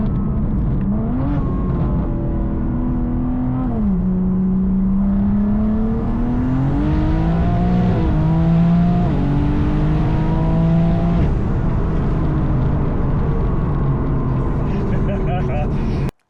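A powerful 1300 bhp single-turbo BMW G80 engine roars continuously, revving hard with rising pitch sweeps as it accelerates through gears, loud and close throughout.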